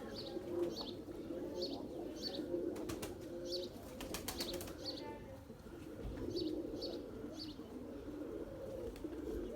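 Pigeons kept by a breeder coo in a repeated series of soft calls near a rooftop, with brief flapping or rustling in the middle and steady low background noise throughout.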